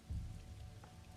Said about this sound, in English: Oh, rainy. Such a rainy August day.